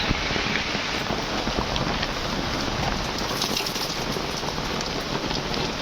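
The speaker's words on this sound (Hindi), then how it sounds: "बारिश बहुत चालू है, कल से बहुत बारिश हो रहा है।" Heavy rain pours steadily, dense and loud, with a constant hiss and patter. The sound is unbroken across the whole span and carries some wind noise.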